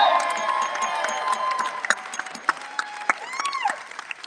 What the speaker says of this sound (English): Let's give Mikey Harlow another round of applause.